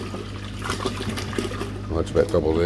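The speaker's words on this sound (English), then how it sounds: "I'll just pour it all in." Liquid trickles and pours into a beaker during gold recovery from CPU slots. The pouring is close and fairly quiet, running underneath someone talking.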